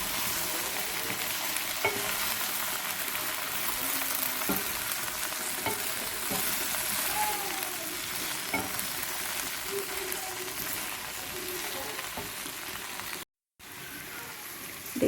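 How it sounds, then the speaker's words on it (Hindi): Okra and potatoes frying in a pan as red chilli, turmeric and garam masala are stirred in: a continuous dense sizzle with faint scraping strokes of a spoon, steady and close, broken by a brief dropout near the end. "ये अब हम इसमें डाल देते हैं। इसे अच्छी तरह से मिलाएंगे।"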